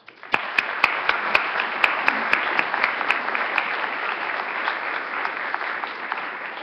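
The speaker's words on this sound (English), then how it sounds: "Please join me in a round of applause" An audience at a public forum breaks into sustained applause, many hands clapping densely and steadily for several seconds, with a few sharper claps standing out near the start.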